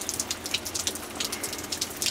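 Steady rain falls in Southern California during a thunderstorm, a dense, even patter of drops hitting surfaces close by for the whole stretch, with no voices.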